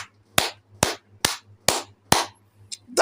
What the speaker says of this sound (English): don't you guys think it deserves a hand of applaud?